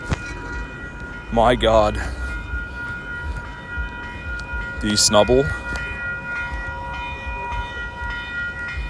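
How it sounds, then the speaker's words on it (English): Train passing a railroad crossing near a street, a steady rumbling drone with sustained horn-like tones running throughout, with someone talking briefly over it twice. "If you watch my streams for more than 5 minutes, you're sure to hear this train."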